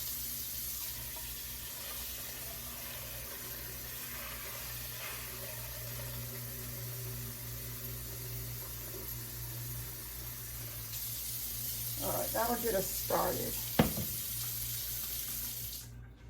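Water pours steadily from a tap into a pan for cooking beans, a continuous hiss that swells louder near the end with some clatter, and a voice speaks briefly.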